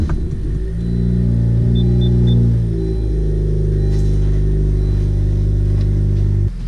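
A 2017 Honda Civic 1.5T fitted with a short shifter pulls away, its engine droning steadily and loud with a deep rumble that rises slightly as it accelerates, no voices over it.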